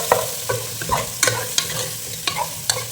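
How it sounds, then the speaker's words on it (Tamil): Raw mango pieces sautéing in oil in a pan for a fish curry, giving a soft, steady sizzle broken by a regular series of scrapes and taps as the pan is stirred. "எண்ணெயில் கொஞ்சம் அப்படியே வதங்கட்டும்."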